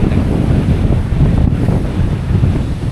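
Ocean surf and strong wind on a south-coast beach near Malang, East Java, form a steady, loud broadband roar with heavy wind buffeting the microphone and no voices.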